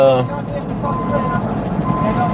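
Truck reversing with backup beeps, a steady engine rumble filling the clip with a brief tonal beep pattern at the start, fairly loud and close, with a person's voice mixed in.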